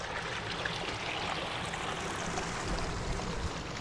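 Water runs steadily along the Brimstone and Sawtridge Leat, an old stone-lined moorland channel on western Dartmoor fed through a bullseye stone, giving a constant broad rushing wash without pause.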